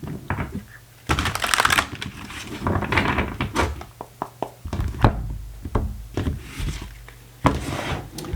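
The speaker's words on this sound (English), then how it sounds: "One more shuffle." Tarot cards being shuffled by hand in crisp bursts of riffling and slapping, with short pauses between the rustling passes.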